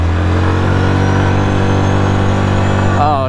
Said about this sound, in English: can she come down to a low RPM without stalling?